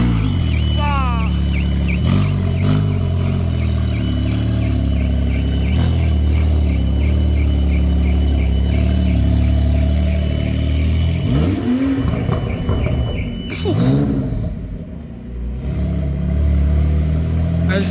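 A luxury car's engine runs loudly with a steady mid-pitched drone, rising revs in the middle, and a beeping car alarm repeating over it before trailing off.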